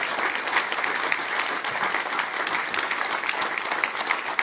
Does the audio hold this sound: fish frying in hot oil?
no